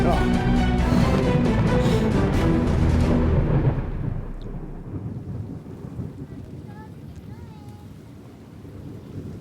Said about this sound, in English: Oh, the storm has gone. The storm has passed.